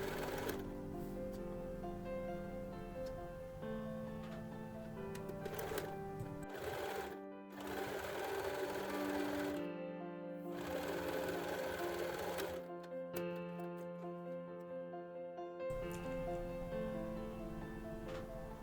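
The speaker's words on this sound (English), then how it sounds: "we sew the inside layer and outside layer together on the bottom" Sewing machine stitching the inside and outside layers of a blanket-made kid's jacket together along the bottom, running in steady bursts of whirring separated by short pauses throughout.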